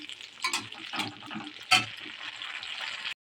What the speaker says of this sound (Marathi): अशा मिरच्या झाकून ठेवल्या कारण मिरच्या उडू शकतात